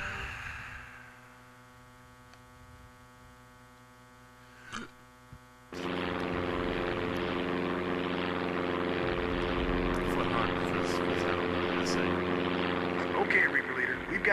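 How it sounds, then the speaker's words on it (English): A World War II propeller fighter in the video game Damage Inc. hums at idle, then roars up to full engine power for takeoff, the engine holding loud and steady with a whine rising near the end. "Get your plane off the ground and take care of those fighters."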